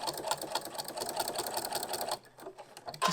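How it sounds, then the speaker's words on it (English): A sewing machine stitches around a circle of 100% cotton fabric for a tortilla warmer, a fast, even mechanical chatter up close. It pauses briefly, runs on softly, then starts up again loudly at the end. "quite simply sew around the circle, removing the clips or the pins as you go"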